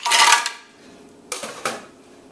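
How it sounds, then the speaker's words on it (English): Ice cubes dropped into a blender while making Guinness punch, a loud clattering rush followed by two sharper clinks and fading rattles. "So in goes that ice."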